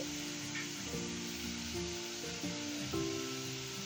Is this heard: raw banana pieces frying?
yes